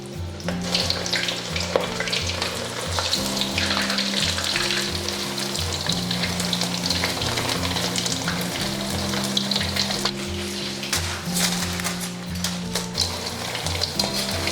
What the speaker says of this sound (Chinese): 接着我们继续炸第2锅哈